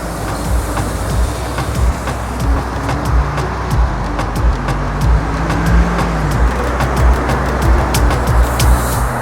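Steady road and traffic noise from a rider's perspective on an e-bike along South Miami streets, with vehicles passing close by in a continuous loud rumble and intermittent clicks over the top.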